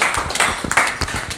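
An audience applauds a musician at an Indonesian event with dense, close clapping that surges and fades across a short burst.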